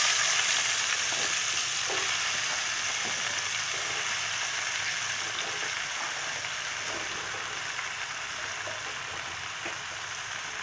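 Kosu (taro) goes into hot oil and fries with a dense, continuous sizzle and crackle, heard up close and gradually settling slightly quieter over ten seconds.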